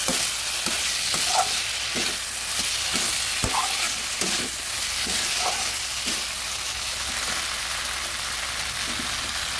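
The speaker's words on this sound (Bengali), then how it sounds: "ভালোভাবে নেড়ে দেবো।" Broad bean seeds sizzle in a hot pan while a spoon stirs them, with rhythmic scraping strokes over a loud, steady frying hiss and no talking.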